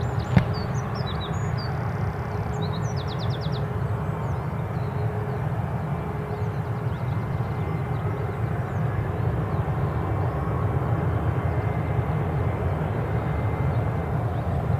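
An airliner departs Newcastle International airport on a cold morning, a steady distant low engine roar filling the whole stretch, with a few faint bird chirps early on.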